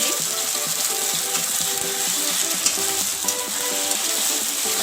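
A masala of ground onion, ginger and garlic paste frying in a pan, with a loud, steady sizzle and the scrape of stirring throughout, no voices.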